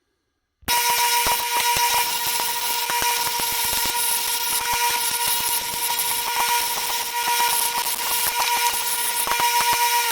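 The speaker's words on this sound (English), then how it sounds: "we're going to use the grinder and we're going to grind those rivets out" An angle grinder whines continuously and loudly, with a steady high tone, as it grinds out the old rivets on a lopper during a repair.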